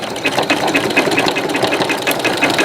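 A sewing machine stitching a rope bowl, running loudly and close in a rapid, even mechanical chatter throughout.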